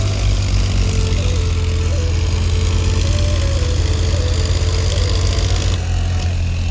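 A tractor engine runs steadily while the machine sits stuck in the field, a loud, continuous low rumble with a slight wavering mid-pitched whine throughout and no voices.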